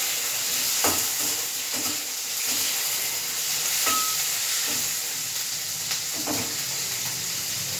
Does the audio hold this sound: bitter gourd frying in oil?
yes